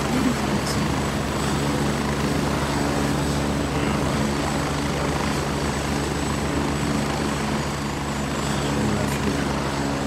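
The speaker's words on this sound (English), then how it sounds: "I can't hear shit when that heli comes by" A helicopter in the military shooter game Gray Zone Warfare passes by, its heavy rotor drone loud and steady throughout and swamping everything else.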